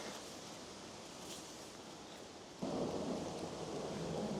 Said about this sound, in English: It's actually starting to rain now, of course.